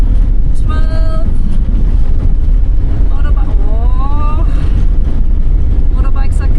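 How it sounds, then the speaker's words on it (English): Motorbike engines whine and rise in pitch through loud, constant wind rumble, with voices talking over the noise, high on a mountain climb near Balcón del Pissis, Argentina, at about 4,700 metres. "Motorbikes are coming back."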